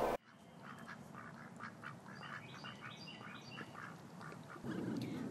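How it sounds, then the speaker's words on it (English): Ducks and geese at the lake in Lake Julian Park, Asheville, quack and honk in repeated calls at middle distance over a soft outdoor background hush. "Just like the ducks and geese of Lake Julian Park"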